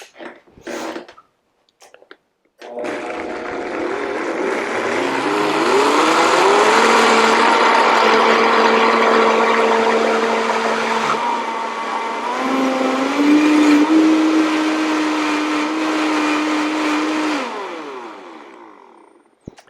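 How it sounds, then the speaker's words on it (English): A Vitamix blender motor whirs up after a couple of clicks, holds a loud steady high-pitched drone that shifts pitch as the load changes, then winds down at the end; no one speaks. "one thing we can never live without is our Vitamix"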